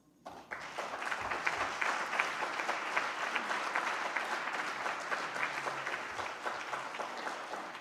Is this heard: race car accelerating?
no